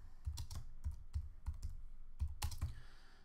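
Computer keyboard typing a clip name in Final Cut Pro X, a quick series of close, crisp key taps in short bursts with brief pauses, no talking.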